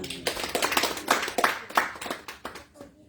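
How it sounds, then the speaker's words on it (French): Church congregation clapping during a Sunday morning service, a run of fairly close, uneven hand claps that swell in the middle and thin out toward the end, with no talk over it. "Merci de l'applaudir."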